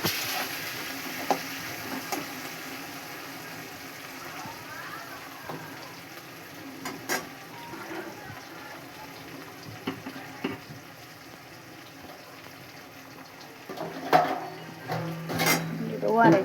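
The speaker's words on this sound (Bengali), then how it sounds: "উচ্ছেটাকে লাল লাল করে ভেজে নেব" Sliced bitter gourd shallow-frying in a pan in a home kitchen, a soft steady sizzle underneath with occasional clinks and scrapes of a spatula stirring against the pan, louder clatter near the end.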